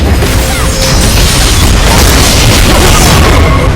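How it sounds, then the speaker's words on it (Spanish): A turret destroyed in League of Legends, a loud dense crashing burst with rumbling, crackling debris that fills the whole moment at full volume. "Vuestra torreta ha sido destruida."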